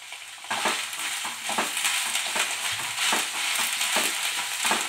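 Vegetables and carrot frying in a pan for veg rolls, a loud steady sizzle broken by repeated scraping stirs of a spatula, close up with no talking.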